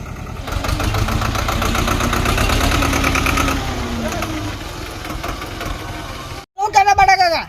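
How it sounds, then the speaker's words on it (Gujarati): A farm tractor engine runs near a field edge, a low, steady, rumbling chug that holds for several seconds and then fades, followed by people talking loudly at the end. "ટ્રેક્ટરનો અવાજ આવે છે ટ્રેક્ટર તો આવ્યું છે"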